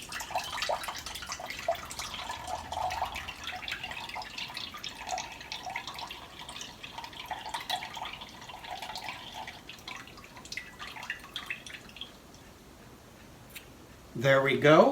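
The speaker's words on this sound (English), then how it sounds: "we're going to need 120 grams of pineapple juice" Pineapple juice poured into the pan of a Zojirushi bread machine for Hawaiian bread, a steady splashy trickle running under a person talking, followed by a short sharp clatter at the end.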